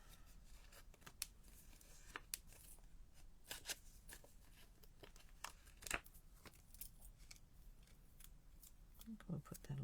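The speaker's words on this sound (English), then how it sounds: "I'm just going to cut that." Quiet snips of scissors cutting card edges during card making, sharp irregular clicks and paper rustles spread through the clip, with soft talk in between.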